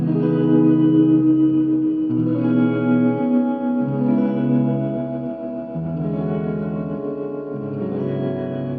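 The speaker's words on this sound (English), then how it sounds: "And then there's like a pulsating reverb as well." Guitar chords run through the pulsating reverb mode of a JOYO R-14 pedal, sustained and washy, swelling and throbbing as they change every second or so, played alone with no talk.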